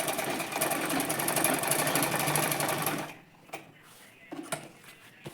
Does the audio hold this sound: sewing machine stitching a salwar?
yes